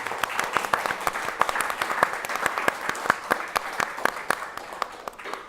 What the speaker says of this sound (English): Can I please get a round of applause for our moderator,